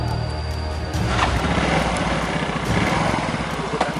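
A motorcycle engine runs close by with a buzzy, rattling idle that picks up and holds a steady, slightly uneven drone, loud and continuous with no voices over it.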